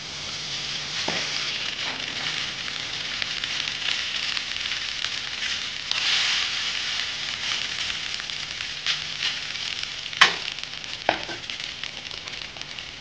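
Roasted peanuts and cooked rice fry in a pan with turmeric for lemon rice, a continuous soft sizzle with occasional sharp clinks of a spoon against the pan, close and unaccompanied by speech.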